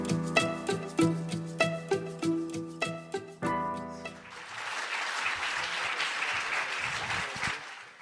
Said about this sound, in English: And can we get a round of applause for the debaters?